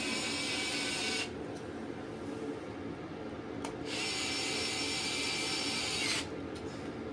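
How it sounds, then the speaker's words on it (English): A power screwdriver whirs in two sustained high-pitched bursts, each lasting a few seconds, with a brief blip between them over a low background hum. "The only thing I will say about this screwdriver, James, you might agree, you have to hold it"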